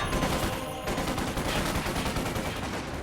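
Sten submachine gun fire in Company of Heroes 2, a World War II strategy game. Dense, continuous bursts of rapid gunfire mix with battle noise at a steady loud level, with no talking.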